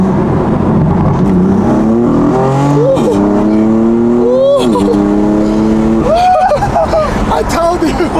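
A BMW M4 or Toyota Supra sports car accelerates hard in second gear, its engine note climbing in repeated rising sweeps with gear-change dips, loud and close, while people talk excitedly over it.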